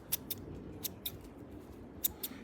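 Scissors snip plant cuttings diagonally: several sharp, crisp cuts in an irregular rhythm, close up over a quiet room background.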